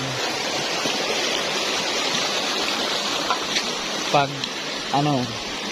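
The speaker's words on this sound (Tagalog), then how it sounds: "kung sinong gustong maligo, yan, ilog, maraming ilog dito." Steady rushing of a river flowing, a continuous broad wash of water sound, with a person talking briefly near the end.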